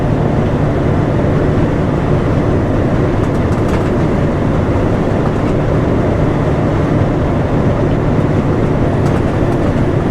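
Truck trailer blower pumping off its load, a dense, constant roaring whoosh that runs loud and unbroken from start to finish with no voices over it.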